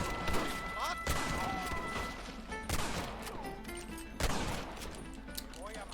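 Gunshots ring out in Red Dead Redemption, several loud sharp reports spaced a second or two apart, each trailing into a ringing echo over a busy mix of game sounds.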